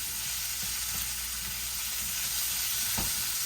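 Pesto cream beef penne with zucchini sizzles in a hot pan as a steady, close, hissing fry with a few soft stirring clinks. No one speaks.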